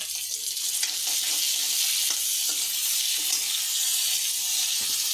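Chopped onion frying in a pan for pasta, a steady broad hiss of oil sizzling that holds evenly throughout, with a few faint stirring clicks and no voices.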